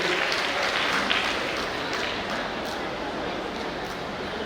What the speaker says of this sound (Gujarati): જોરદાર તાળીઓ.